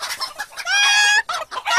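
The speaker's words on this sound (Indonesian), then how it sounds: "Atuk, ayam tadi ada bertelur lagi." Cartoon hen clucking after laying an egg, a rapid series of loud, close squawking clucks with one drawn-out cackle in the middle.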